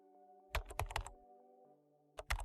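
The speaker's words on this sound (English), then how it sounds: "So if I type John here, it would be sent as first name is equals to John" Someone types a name on a computer keyboard, with two short clusters of close, crisp key clicks separated by a pause over faint background music and no voice.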